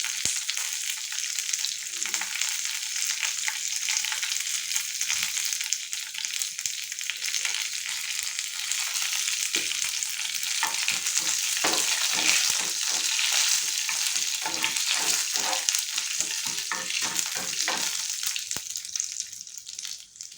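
Curry leaves and spices sizzle and crackle steadily in hot oil as a tempering fries in a home kitchen, with occasional stirring scrapes, close and continuous.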